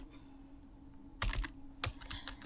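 Fingers type on a computer keyboard in two short bursts of quick, close key clicks over a faint background hum.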